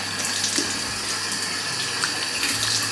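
Tap water runs steadily into a sink at face-washing time, a soft continuous splashing hiss with small bursts of splatter, fairly quiet and with no voices.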